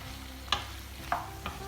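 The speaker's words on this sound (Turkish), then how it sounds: "Evet şöyle bir karıştıralım." A few scraping stirs of cubed vegetables frying in a pan with very little oil, spaced apart, over a faint steady sizzle of frying.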